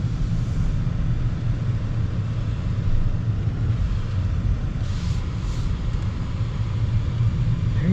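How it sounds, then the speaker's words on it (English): A 2025 Mercedes S63 driving in electric mode gives a steady, even low rumble of road and cabin noise with no engine note rising above it and no talking. "It's got pretty good power in this electric mode."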